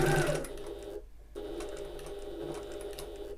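A sewing machine runs in short bursts while back stitching on a Half-pint Hobo bag, a close rhythmic mechanical chatter that pauses briefly, then resumes steadily.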